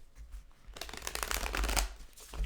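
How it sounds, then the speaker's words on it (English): Tarot cards being shuffled by hand during a general reading, a close, papery riffling and rustling that grows louder and denser after a quiet start. "A couple more shuffles, please."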